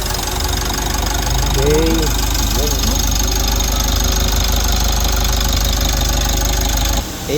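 A Mitsubishi L300 diesel engine with 36k mileage idles steadily after turbo and EGR valve cleaning of heavy carbon buildup, a constant close mechanical drone with faint knock, and a voice speaks briefly.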